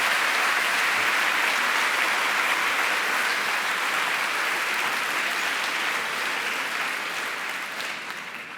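Audience applause after a history talk at a colloquium, a dense steady wash of clapping from a large room that holds loud and even, then fades away toward the end.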